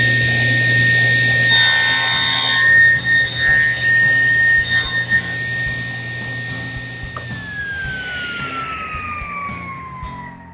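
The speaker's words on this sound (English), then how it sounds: "turn your saw on, and that's going to remove that material on the bottom gauge" Table saw running and cutting a small notch into a MicroJig MatchFit dado stop gauge, a steady loud machine whine with a high tone that drops in pitch as the blade spins down near the end.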